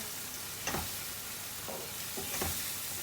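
Onions with garlic and chicken frying in a pan for a chicken curry, a steady soft sizzle with a few scraping stirs of a spoon.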